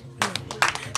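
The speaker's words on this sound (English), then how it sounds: "clapping for themselves for comportment" Students at a school for the blind clapping for themselves, several quick claps in a short ragged burst, close and moderately loud, with a voice talking underneath.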